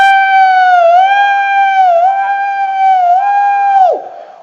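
A preacher giving a sermon at a Maulid Nabi gathering imitates an ambulance siren with his voice. He holds a loud, wavering, siren-like tone for several seconds before it drops away abruptly.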